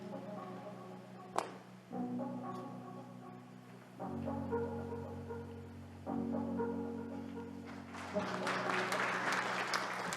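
An audience at a 2021 forum claps to welcome a speaker to the stage, mixed with sustained walk-on music chords that shift every few seconds; the clapping swells louder toward the end.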